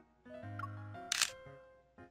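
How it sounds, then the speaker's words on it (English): A camera shutter button clicks once in the video game Love & DeepSpace, a short crisp snap set against soft game music tones. "The sound of a shutter button brings me back to reality"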